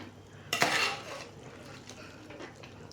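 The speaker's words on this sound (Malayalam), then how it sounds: "ഇതിനെ നമുക്ക് നന്നായിട്ടൊന്ന് ഇളക്കി" Chicken curry stirred in a pan, a single sharp scrape of the spoon against the metal followed by quieter soft scraping, close and alone without talk.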